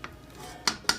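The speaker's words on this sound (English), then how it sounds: "Just want to keep giving it a little stir." A spoon clinks against the metal side of a beer brewing pot while malt extract is stirred for a Canadian-style beer, two sharp close clinks after a faint first tap, with a soft background hiss.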